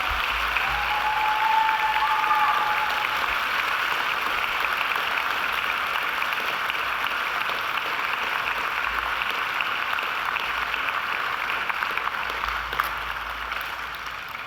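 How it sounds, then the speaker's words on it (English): A graduation ceremony audience claps in a sustained, dense round of applause that holds steady for the whole stretch and slowly eases toward the end, with no talk over it. "And now I invite you to give them a mighty round of applause in thanks."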